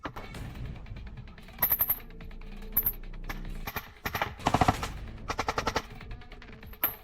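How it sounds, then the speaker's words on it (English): Bursts of rapid gunfire crack out in uneven volleys during trench combat in Ukraine, some single shots and some quick strings, loud and close, with rustling movement between them. "Gunfire punches through the tarp beside his head."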